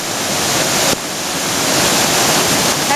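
Floodwater from Hurricane Irene rushes loudly and continuously near Hunter, New York, a dense roaring wash close to the listener with a brief shift in level about a third of the way through.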